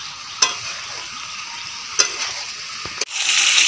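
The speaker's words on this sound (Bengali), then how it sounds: "ভালো করে আমি এটা কষিয়ে নেব" Potatoes fried with salt and turmeric are stirred in a hot pan, giving a steady close sizzle broken by a few sharp scraping strokes of the spoon, with the frying swelling louder near the end.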